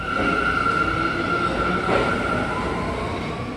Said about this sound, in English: This is a J train, which is not what I want to get.